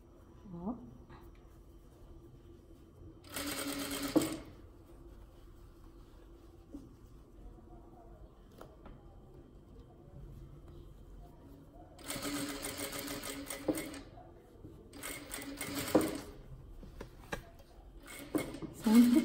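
Sewing machine stitching the gathered skirt of a child's dress, running in short bursts of a few seconds with pauses between, close by, with someone speaking softly in between the runs.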